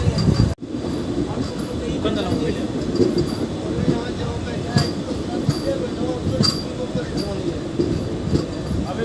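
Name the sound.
MEMU passenger train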